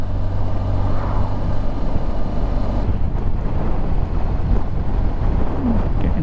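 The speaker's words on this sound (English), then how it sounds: "Getting a bit blowy." Strong outdoor wind buffets the microphone with a loud, continuous low rumble and roar that lasts throughout, with no speech.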